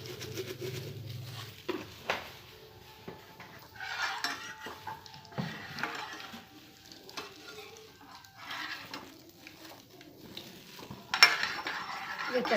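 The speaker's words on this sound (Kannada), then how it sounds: "ಚಟಪಟ ಅಂತ ಇದೆ." Cumin seeds crackle in hot oil while rava upma is being made, giving scattered faint pops and a light sizzle under intermittent stirring and utensil clinks in a quiet kitchen.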